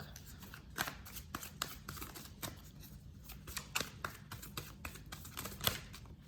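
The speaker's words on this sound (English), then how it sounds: "I'm going to get one more card from this deck." Playing cards being shuffled and drawn from a deck, heard as a run of soft, close riffling clicks and taps in a quiet room, with no talking.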